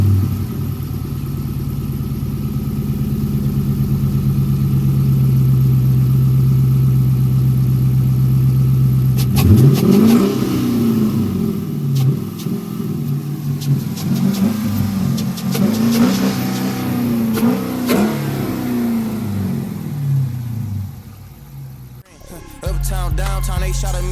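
A Dodge Hellcat's 5.7 V8 engine with an aftermarket intake idles steadily, then is revved repeatedly in rising and falling bursts before settling, loud and close.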